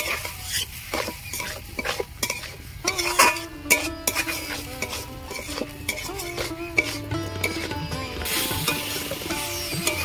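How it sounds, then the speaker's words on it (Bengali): Spices being sautéed in a pan for a Bengali potato curry, with repeated scraping and clanking of a spatula against the pan over a soft sizzle, in irregular bursts. "মশলাগুলো আমি এইভাবে দিয়ে দিয়েছি। এবার কষিয়ে নেব।"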